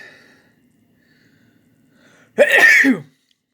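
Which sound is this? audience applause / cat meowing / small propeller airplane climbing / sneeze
sneeze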